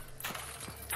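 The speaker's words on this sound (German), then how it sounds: "Ein Pferd." A horse's hooves clop a few times in the video game Hunt: Showdown, a short close burst of hoofbeats over steady game ambience.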